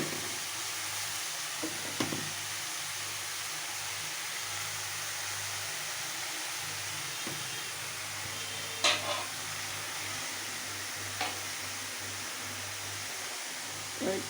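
Cabbage stir-fry being stirred with salt in a pan, a steady sizzle of frying under a few scattered scraping clicks of the spoon, with no talk.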